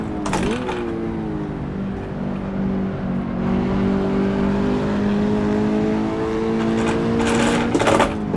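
A Toyota GT86 engine in the Assetto Corsa racing game on the Nordschleife, revving steadily with rising, sustained drones and brief dips at gear shifts, loud and close with no talking.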